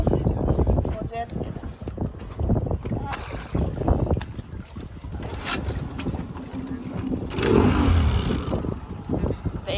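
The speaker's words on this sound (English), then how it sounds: "That's how you start our dinghy engine." Small outboard engine on a dinghy, puttering and rising in revs outdoors, partly buried under steady wind noise and someone talking.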